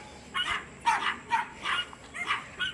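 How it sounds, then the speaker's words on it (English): Three small chihuahua puppies yap at someone in short, sharp, evenly spaced barks, five quick bursts close by over a faint steady background hiss, with no talk. "They're all three barking at me."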